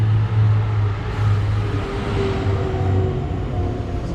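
A Buick Encore engine idles steadily and close by during a water pump and thermostat job, a continuous low hum with a faint higher tone running alongside it.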